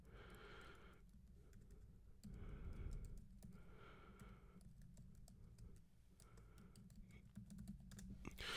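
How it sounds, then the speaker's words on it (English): A computer keyboard is typed on in quick, uneven bursts of soft clicking, faint and close, with brief pauses between runs and a little quiet breathing underneath. "let me type it in the descriptive comments below"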